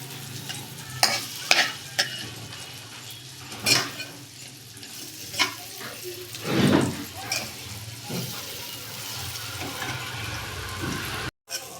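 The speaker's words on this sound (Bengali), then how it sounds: "বেগুনগুলোকে ভালো করে ভেজে নেব। বেগুন ভাজাটা উল্টে দিচ্ছি" Eggplant slices fry in a pan with a soft, continuous sizzle, broken by several sharp scraping and clattering bursts as the pieces are stirred and flipped.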